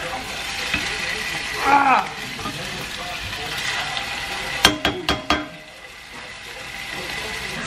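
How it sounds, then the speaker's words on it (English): Short ribs sear in a hot pan with a constant crackling sizzle, broken by a short burst of clattering knocks near the end, and a brief vocal sound early on. "point is to get a good sear on these short ribs, so just to get like a really good crust."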